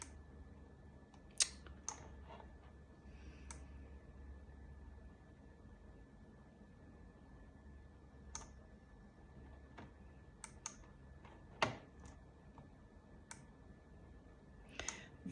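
Typing on a computer keyboard while writing entries, with scattered soft key clicks and a few sharper taps over a faint steady background hum, fairly quiet and close.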